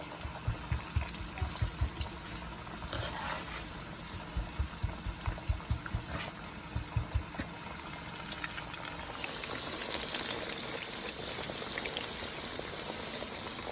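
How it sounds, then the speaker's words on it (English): Fish frying in hot oil, a quiet bubbling sizzle broken by a run of soft rhythmic knocks early on, then a denser steady frying hiss with no one talking. "it doesn't take fish long to fry"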